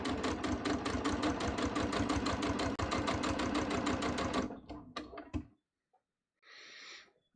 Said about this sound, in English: I'm going to back tack a little bit. And then we're just going to stitch.